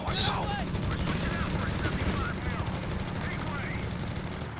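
Machine guns rattle in a Company of Heroes 3 battle, including a .50 cal, with sustained rapid bursts over constant battlefield noise and faint game effects.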